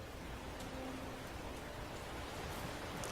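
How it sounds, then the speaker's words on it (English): Rain falling steadily in Dragon Age Inquisition, a faint, even hiss of drops on surfaces with a few soft patters, continuous and distant throughout with no voices. "So, it's raining."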